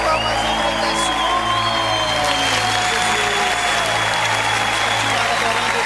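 A church congregation applauding during an online worship service, steady loud clapping mixed with crowd noise and sustained tones running throughout without a break.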